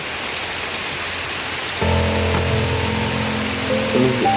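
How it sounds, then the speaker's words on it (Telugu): Rain falls outdoors in a tribal village while neem seeds are being gathered, a loud continuous hiss of rainfall with a low engine-like hum joining partway through. "వర్షం పడిపోతుంది"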